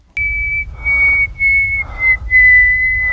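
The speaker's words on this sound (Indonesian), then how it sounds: "terus tiba-tiba siulan" A man whistles a steady, clear high tone in a tense film scene, holding it through several sustained phrases with brief breaks, loud and close over a low rumbling background.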